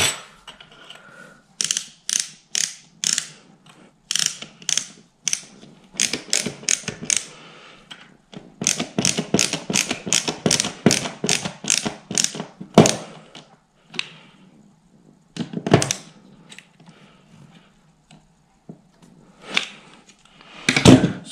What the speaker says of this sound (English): just offer it up and screw it in